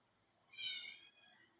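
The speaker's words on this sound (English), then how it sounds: "That cat's just come in." A domestic cat gives a single short, fairly faint meow indoors as it comes in, rising then trailing off against a quiet room background.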